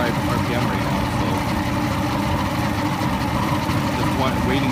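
A boat engine idles steadily and loudly up close, its low rumble continuous through the short stretch without clear revving swells.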